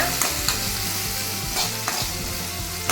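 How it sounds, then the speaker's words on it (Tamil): Onions sautéing with curry leaves in a pan, a steady close sizzle with a few sharp scrapes and stirring taps over the frying hiss, no talking. "கருவேப்பிலை சேர்த்துக்கலாம் இதையும் சேர்த்து நல்லா வதக்கிக்கோங்க"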